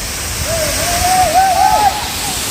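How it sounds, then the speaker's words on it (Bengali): The Rimbi waterfall, with water dropping from a great height, makes a steady, loud, close roar of rushing water, while a voice speaks briefly over it. "সেই ওপর থেকে পড়ছে ওয়াটারফলসটা, দুর্ধর্ষ লাগছে রিম্বি ওয়াটারফলস।"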